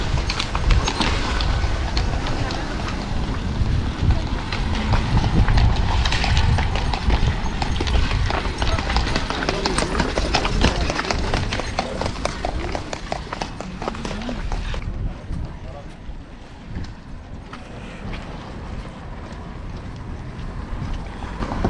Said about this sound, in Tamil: குதிரையை பாருங்கள் கீழே இறங்க முடியல வலுக்குது அது எப்படி நடக்குது பாருங்கள்